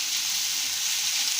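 Potatoes and onions frying in a pan for sabudana khichdi, a steady, even sizzle close by that holds without a break and with no voices.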